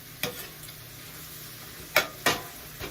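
Vegetables for a vegetarian soup are stirred in a pot, with a few soft scraping stirs over a faint sizzle, close by and with no talk.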